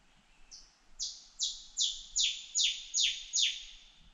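Rufous Scrub-bird singing in Oakes State Forest: a series of about eight loud, clear, ringing chirps at a steady, slightly accelerating pace, each a sharp descending note, close and alone over quiet forest background.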